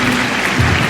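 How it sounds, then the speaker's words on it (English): Crowd applause from spectators at an England v Sri Lanka one-day cricket match, a short steady patter of clapping heard from a distance in the background. "Nearly applause for that in the background."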